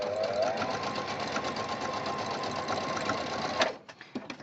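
A sewing machine runs in a fast continuous chatter while stitching a Christmas tree decoration, close and steady, then stops abruptly, leaving a few small clicks and handling sounds.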